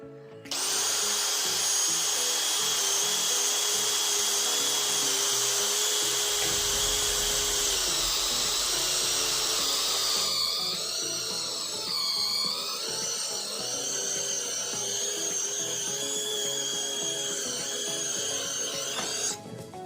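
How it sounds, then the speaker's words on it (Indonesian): A DeWalt DCD796 cordless drill bores through roughly 12 cm of mahogany with a number 2 auger bit, a loud sustained motor whine with a pitch shift midway as the bit loads, continuous throughout. "Di sini saya akan menguji performanya menggunakan mata bor Auger percepatan nomor 2 di kayu mahoni."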